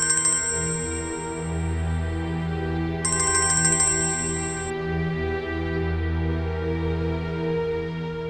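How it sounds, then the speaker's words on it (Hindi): A high electronic phone ringtone chirps in two bursts, a long one then a shorter one after a pause, over a steady low hum. "क्यों फोन कर रहे हो नीलम को?"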